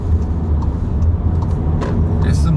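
Interior drone of a seventh-generation Volkswagen Jetta in S mode with RPM sinking below 1000, a steady low rumble with road noise beneath continuous speech, the car carrying extra weight.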